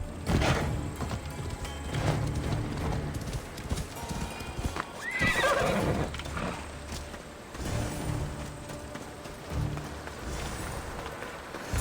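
Horse hooves clip-clop in a steady rhythm at moderate volume in a video game, with a brief whinny partway through and a faint rumble of movement.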